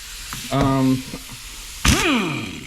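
Air impact wrench hooked up to an air hose gives a short whirring burst, then a loud blast of hissing air that winds down over about a second.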